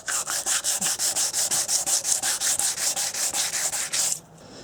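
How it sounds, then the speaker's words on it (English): Wet 180 grit sandpaper scrubs paint off the inner surfaces of 2002 Honda XR100 plastic bodywork with soapy water, close and steady back-and-forth strokes in an even rhythm of about five per second, stopping just before the end. "and some 180 grit sandpaper, and that works to remove the paint from these inner"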